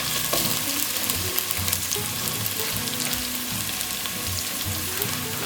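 Rabbit frying in a pan with tomato pulp for a Sicilian dish with capers and green olives, giving a steady, dense sizzle and bubbling with stirring scrapes throughout, close and loud with no talking.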